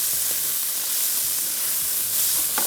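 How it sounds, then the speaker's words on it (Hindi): Chicken pieces frying in a pan give a steady close hiss and sizzle throughout, with no voices. "इस चिकन को थोड़ा सा और फ्राई करेंगे"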